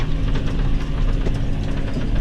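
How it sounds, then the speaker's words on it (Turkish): A John Deere 6120R tractor engine runs steadily with a deep, rumbling drone and a faint rhythmic knock, loud and close, with no talking. "Bizim de traktörümüz John Deere 6120R."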